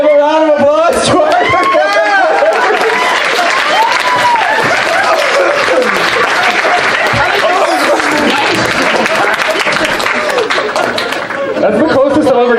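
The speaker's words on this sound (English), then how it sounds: "Give a round of applause to our" A crowd at a furry convention charity event applauds loudly and continuously, with cheers and scattered voices mixed into the clapping.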